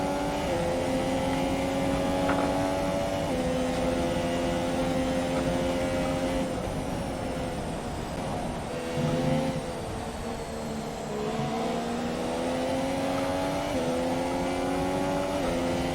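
A Formula 1 car at Suzuka in F1 2017 screams at high revs throughout. The loud, sustained engine note shifts pitch through gear changes and shows brief dips and climbs as the car brakes and accelerates through corners.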